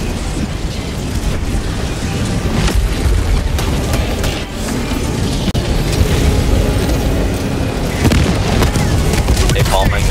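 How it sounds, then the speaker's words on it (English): A thrown bomb detonates during a Helldivers 2 base defense mission, one deep boom rising out of steady dense combat rumble, with voices talking over the din. "Careful. I threw a bomb."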